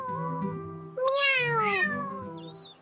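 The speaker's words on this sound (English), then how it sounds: "This is a cat" A cat gives a single clear, drawn-out meow that rises and then falls, close and distinct against a quiet background.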